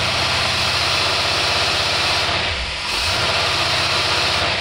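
An engine with a small single-barrel Holley carburetor runs loudly and steadily close by, its low throbbing drone dipping briefly in pitch as it revs before settling back.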